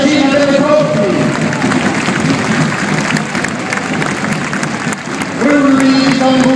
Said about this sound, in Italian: applaudite per la regina delle corti